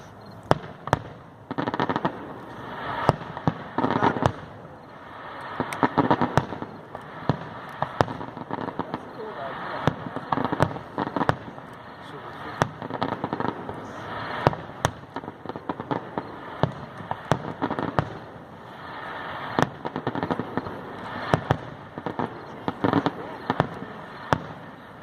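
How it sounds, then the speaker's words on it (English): Fireworks at the Coast Guard Festival in Grand Haven, Michigan, pop and crackle in dense, continuous bursts for the whole stretch, with a crowd of people talking throughout. "you'll see the fireworks"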